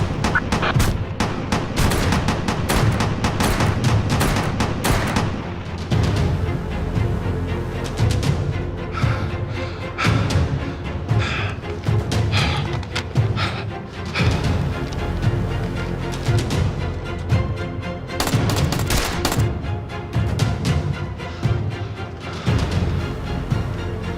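Sustained support gunfire in a Turkish military TV drama, loud, dense rapid shots and blasts packed together over about twenty seconds with no pause.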